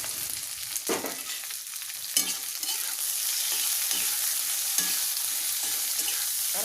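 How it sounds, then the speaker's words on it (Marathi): Okra frying in hot oil in a pan gives a steady, dense sizzle, broken by a few louder stirring scrapes; it's close and carries on alone with no voices. "अगोदर भेंडी थोडीशी फ्राय होऊ द्यायची तेलामध्ये"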